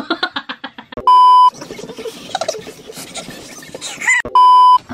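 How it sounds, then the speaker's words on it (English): Lie detector challenge machine giving two loud, steady electronic beeps about half a second each, close by, with a fast rhythmic tapping before the first beep and a stretch of busy noise between them. "it's either gonna shock you or it's gonna do ping if you're telling the truth"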